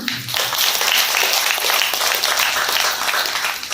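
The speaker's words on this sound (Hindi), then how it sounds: "एक जोरदार तालियां बजा दो।" Loud, sustained applause from an audience at a Brahma Kumaris Mamma Day gathering in Agra, a dense wash of many hands clapping steadily for several seconds with no break.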